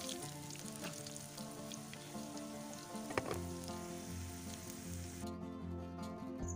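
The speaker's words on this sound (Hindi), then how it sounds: "दोनों साइड से पकौड़ा अच्छे से फ्राई हो चुका है" Besan pakoras frying in hot oil: a continuous close bubbling sizzle with a faint clink midway, and a steady low hum running underneath.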